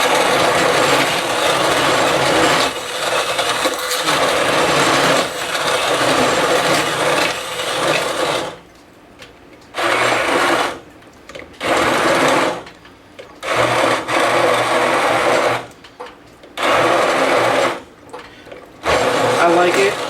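A Braun food processor chopping tomatoes into a thick sauce, a loud steady whirring that later runs in short repeated pulses with brief quiet gaps between them.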